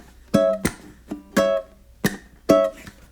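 Ukulele plays one measure of a blues solo mixing lick and chord strums, four sharp plucked attacks in a loose rhythm with short decays, close and alone.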